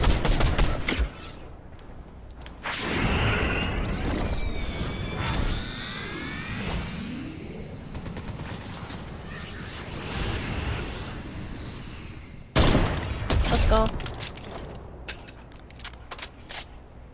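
Gunfire in the video game Fortnite: rapid shots mixed with whooshing sweeps and mechanical clicks, then a sharp, loud burst of shots late on.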